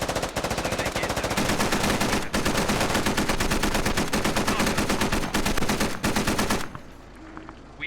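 Sustained automatic fire from a vehicle turret's mounted machine gun in the military shooter Squad, loud and close, rapid continuous bursts for most of the span before cutting off into quieter background noise.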